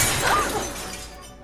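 Greenhouse glass shatters in a film scene, one loud burst of breaking panes that is bright and close, then trails off over a second and a half with no talk.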